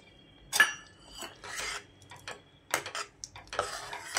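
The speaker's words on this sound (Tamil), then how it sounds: "இப்போ கடைசியாக நான் ஒரு அரை மூடி தேங்காய் பூ துருவி சேர்த்துக்கிறேன்" Half a coconut being grated by hand for dal payasam, a few separate rasping scrapes of varying length with quiet gaps between them, close and fairly soft, with no voices.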